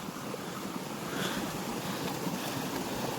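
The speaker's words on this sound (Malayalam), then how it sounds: "ഇവിടെയൊക്കെ വെള്ളത്തിൻ്റെ സൗണ്ട് നല്ല രസമാണ്" Water rushing and flowing near a village waterfall, a broad, steady roar with gusty surges, fairly loud and continuous, with no voices.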